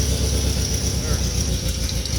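A 1978 Honda CB750A motorcycle engine runs steadily after starting, a rough mid-pitched idle close by with someone speaking over it.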